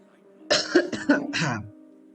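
An in-game character in Genshin Impact coughs and clears their throat in a short, fairly close burst of several rough hacks lasting about a second, with no talk over it.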